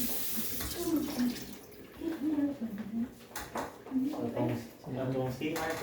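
Strong water gushes from a tap in the bathroom of a one-bedroom condo unit in Busay, Cebu, running steadily beneath a voice talking close by.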